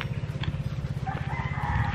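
A rooster crows at a chicken farm in Sablayan, Occidental Mindoro, in the Philippines, a fairly faint call over a steady pulsing low hum.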